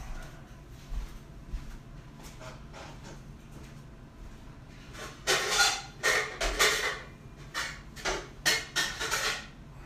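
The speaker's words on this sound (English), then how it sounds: "So I'm going to go ahead and grab a lid for that." A pot lid is pulled from a kitchen cupboard while sauce is being made: after a quiet stretch, a close run of clattering knocks and metallic bangs comes in several sharp bursts.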